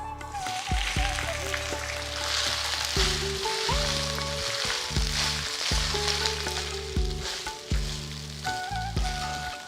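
Cooked rice tossed and mixed in a hot pan, a continuous sizzle broken by repeated scraping, rhythmic spatula strokes, close and fairly loud with no voices.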